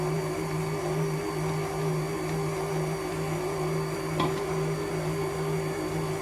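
A stand mixer or kneading machine works brioche dough with milk at a steady, continuous hum, with one brief knock partway through and no voices.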